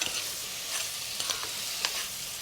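Thinly sliced, salted eggplant pieces frying in a small amount of oil in a pan, a steady soft sizzle with occasional crackles and stirring clicks.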